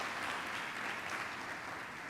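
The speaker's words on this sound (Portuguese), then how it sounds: "Dá um aplauso para Jesus" A church congregation claps during a family worship service, a soft, even patter of applause that stays faint and distant for a couple of seconds with no one speaking.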